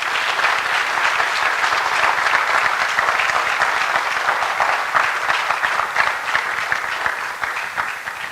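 An audience gives sustained, loud applause at the end of a lecture at IIT Kanpur, many hands clapping in a thick continuous rattle that holds steady throughout and eases only slightly at the close.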